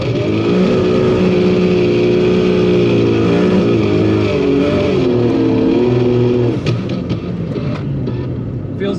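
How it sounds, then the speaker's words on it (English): Loud, sustained engine roar from a Barra-swapped Ford Mustang GT350 doing a burnout at a drag strip, holding steady revs with a harmonic drone before dipping and stuttering near the end; close and continuous. "Try a different burnout."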